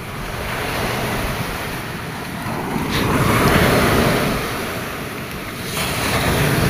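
Ocean surf rolling in steadily with a calm wind, a broad continuous wash of waves swelling and easing, with light wind buffeting the microphone and no voices.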